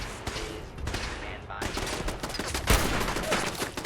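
Rapid automatic turret fire rattles in Fallout 4, a steady stream of loud shots with one sharper burst midway, continuing without pause behind the action.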